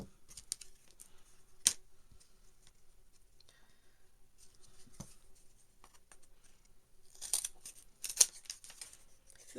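Scissors snip through thin wood pieces in a quiet room, sparse sharp clicks and cuts scattered irregularly, with a denser cluster of crisp snips toward the end.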